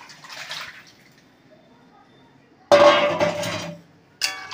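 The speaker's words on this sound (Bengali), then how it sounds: "এবার তৈরি করে রাখা মাছের ঝোলটাকে ঢেলে দিলাম।" Prepared fish curry broth is poured into a hot pan of cooked-down spices, a sudden loud liquid splash and sizzle for about a second, then a brief clatter after a quiet moment.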